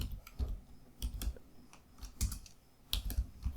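Fingers tap out Java code on a computer keyboard, a quick run of crisp, close key clicks in short irregular bursts with brief pauses, no voices.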